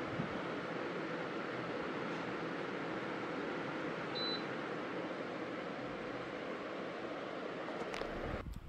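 A Qubo Q400 air purifier runs indoors, its fan blowing a steady, even broadband whoosh of air that stays constant throughout with no talking, ending with a few brief handling clicks.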